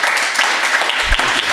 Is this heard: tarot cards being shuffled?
no